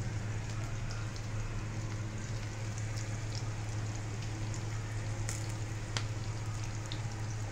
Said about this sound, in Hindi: ये थोड़े से रोस्ट हो जाए, फिर इसमें घी डालते हैं 2 चम्मच